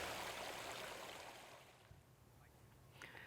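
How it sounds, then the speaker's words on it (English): Water spilling steadily over a backyard pond waterfall, a broad continuous rush that fades slightly and stays soft and even, with a brief brighter splash near the end and no talking. "The soothing sounds of the waterfall provide an excellent place to relax at the end of the day."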